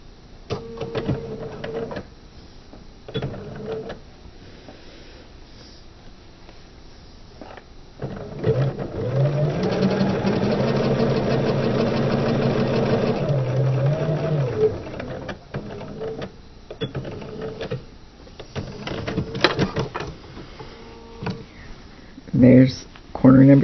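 A sewing machine runs steadily for several seconds while stitching quilt fabric for a trapezoid block, with quieter handling sounds before and after and someone talking around it.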